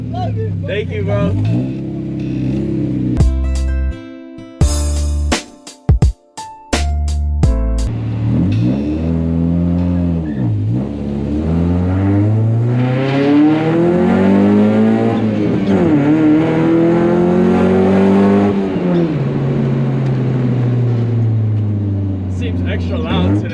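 A Mazda Miata fitted with a hydraulic e-brake revs hard and loud, its engine note climbing and falling in repeated sweeping waves with a few sharp pops early on, while people talk nearby.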